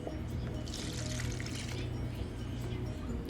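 Thick lip gloss base being poured from a pot into a storage container, a steady continuous liquid pour with a soft trickling texture, close and moderately loud, with no talking.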